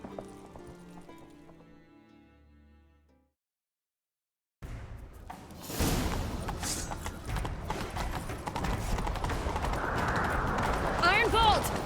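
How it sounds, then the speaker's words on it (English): A horse gallops in the video game The Witcher 3: Wild Hunt, with rapid hoofbeats starting after a short stretch of music and a silent gap. The hoofbeats keep a steady, loud rhythm under character voices. "Grab a horse, we'll chase him down."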